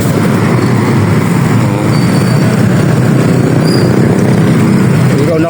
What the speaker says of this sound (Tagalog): puro motor nakadaan sa bike lane no